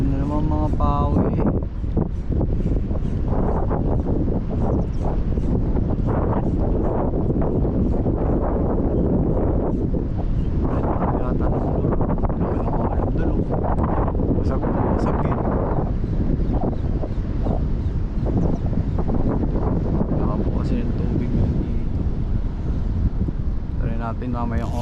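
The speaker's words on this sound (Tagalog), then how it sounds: "Malakas na hangin, konting ulan-ulan na naman." Strong wind buffeting the microphone on a rainy shoreline during shore casting, a loud continuous roar throughout, with someone talking over it.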